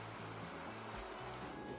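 Ocean waves played as an iPhone background sound, a soft continuous surf wash at low volume with a faint low hum underneath and no distinct breaks.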